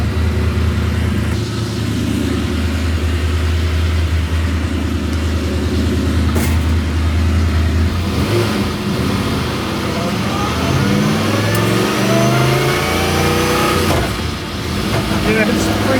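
An IndyCar-powered Martini Mustang Fastback sends out a loud, close engine drone that swells and climbs in pitch through repeated revs in the second half.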